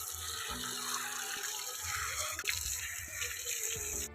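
Water runs steadily from a tap over an old potted Shatamuli plant being washed for repotting, a continuous close splashing hiss with faint drips beneath.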